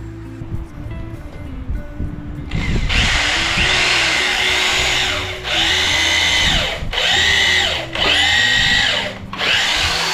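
Power drill driving into old reclaimed wood for furniture, several loud whirring bursts of a few seconds each starting and stopping close by, with brief pauses between them.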